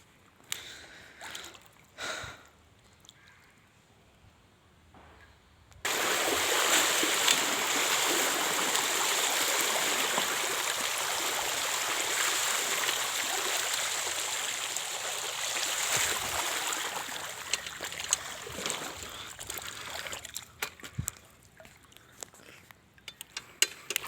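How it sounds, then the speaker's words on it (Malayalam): Rain floodwater rushing in from a nearby stream, a loud, continuous broadband roar of flowing water that starts abruptly after a few quieter seconds and persists nearly to the end. "അപ്പുറത്ത് തോടുണ്ട്, അതാണ് ഇങ്ങനെ വെള്ളം വരാൻ കാരണം"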